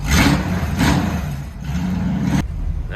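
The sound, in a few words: 1951 Chevrolet Styleline engine with Granatelli exhaust cutout closed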